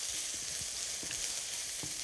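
Tofu frying in a hot wok, a steady bright sizzle with occasional soft stirring clunks, close and continuous.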